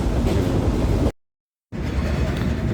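Simanta Express train running, a loud steady rumble and rush of rolling wheels heard from on board, cut off briefly by a short silent gap before the same noise resumes.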